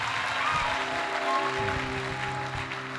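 A church congregation clapping and cheering in praise of the Lord during a prayer service, a dense, sustained wash of many hands with crowd voices mixed in and a low tonal hum beneath.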